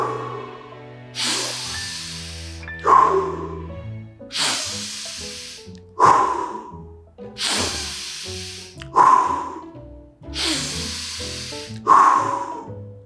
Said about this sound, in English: why don't we take 5 breaths in?